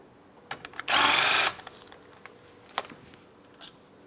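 A power tool spins briefly for about half a second, loosening a 15mm brake caliper mounting bolt on a Ford Transit 250, with faint clicks and handling noises before and after.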